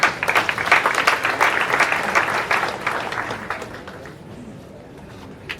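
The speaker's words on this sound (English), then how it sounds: "I think we should clap for God for this country." An audience at a memorial gathering for a late army general breaks into applause, a dense wash of clapping that starts strong and gradually fades away.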